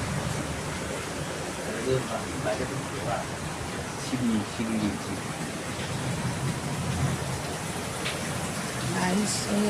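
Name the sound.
hailstones falling during a storm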